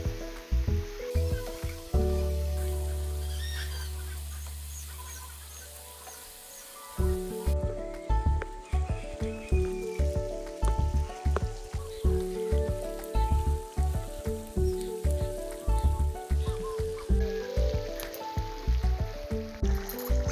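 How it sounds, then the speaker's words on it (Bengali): Singaras deep-frying in plenty of hot oil, a soft bubbling sizzle running throughout beneath clattering pans, repeated utensil taps and other kitchen noises in the foreground. "এবার দিয়ে দেবো একটা একটা করে সিঙ্গারাগুলো।"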